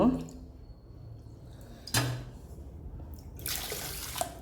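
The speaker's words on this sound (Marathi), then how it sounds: "सव्वा दोन वाटी मी पाणी घालणार आहे" Water splashes into a pot of rice in short pours, with brief clunks of kitchenware in between and a faint voice in the background.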